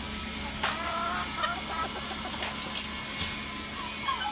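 A bantam chicken clucks softly at intervals in a backyard farm setting, a little distant, over a steady hum and outdoor ambience.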